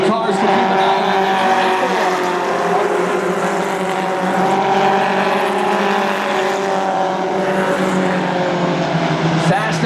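Stock cars roar around an oval track in a dense, loud engine drone that holds steady throughout, with a commentator talking over the racing.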